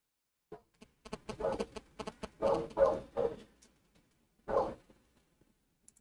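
A dog barks in loud, close bursts: a quick cluster of sharp barks over a couple of seconds, then a single bark after a short pause, with quiet in between.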